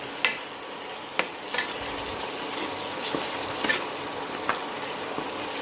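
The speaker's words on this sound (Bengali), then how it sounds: "সামান্য জল অ্যাড করেছি। মশলা আরেকটু কষাবো।" Prawn masala with a splash of water is sautéed in a pan, a soft bubbling sizzle punctuated by sharp, irregular scraping clicks of a spatula against the pan, close up and without talking.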